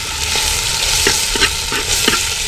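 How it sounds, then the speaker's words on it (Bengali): Cumin seeds and whole garlic cloves fry steadily in hot oil, a dense continuous sizzle broken by a few soft clinks of a stirring spoon, close and fairly loud with no voices. "একটু জিরেটা তেলের মধ্যে ভেজে নিলে একটু স্যান্ড আসতে ভালো লাগে খেতে"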